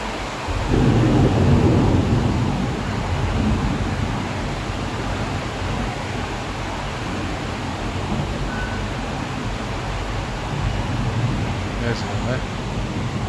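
A thunderstorm over a flooded street in Jakarta: steady heavy rain and rumbling thunder fill the scene, strongest early on, then continue as a dense, constant roar.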